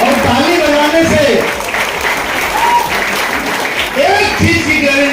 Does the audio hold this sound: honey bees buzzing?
no